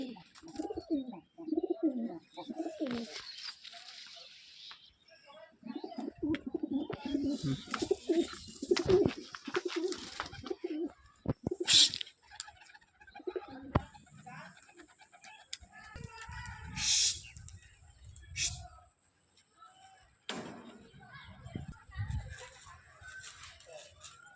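A pair of Beldanga Jhamor pigeons coo softly in low, rolling phrases, mixed with wing flutters and rustling nearby; a voice is heard briefly.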